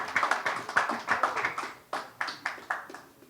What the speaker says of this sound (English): ladies and gentlemen, big round of applause for Himanshu Devaskar